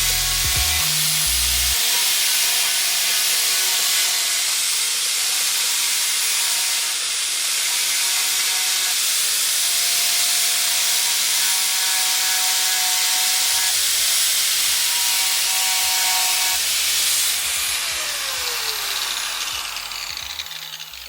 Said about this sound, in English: I'm going to grind them down, and hopefully I don't break the lid and it fits